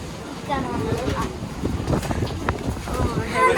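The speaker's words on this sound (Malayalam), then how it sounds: "നല്ല കാറ്റുണ്ട് കേട്ടോ അവിടെ" Steady wind roars and buffets the microphone throughout, a continuous rushing noise with faint voices mixed in, at a strawberry farm in Riyadh.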